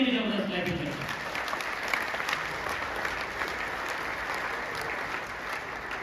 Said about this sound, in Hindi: मैं चाहूंगा उनके लिए भी जबरदस्त ताली करें।